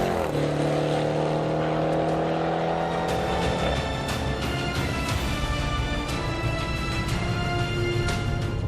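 A 2018 Range Rover Sport SVR engine revs loudly up close, a rising roar that climbs in pitch, then settles into a sustained aggressive growl with crackling bursts.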